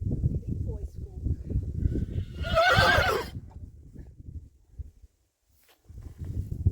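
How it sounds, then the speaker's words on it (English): A horse whinnies once, a short bright neigh rising over nearby voices and shuffling hooves at a horsemanship clinic, followed by a brief quiet gap before talking resumes. "Oh, it's another horse."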